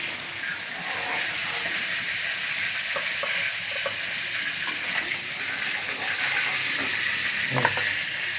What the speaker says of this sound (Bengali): এই দেখো, মাছ ভাজা এবার হয়ে গেল, তুলে নেব